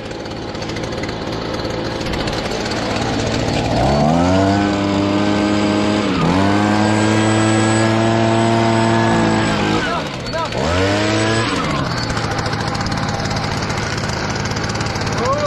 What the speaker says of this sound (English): Gonna take the leaf blower.